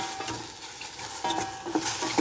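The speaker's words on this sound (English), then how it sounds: "I'll give it a swish round first" Mushrooms stirred in a frying pan with a splash of water, scraping swishes against the pan over a low, steady sizzle, close and moderately quiet.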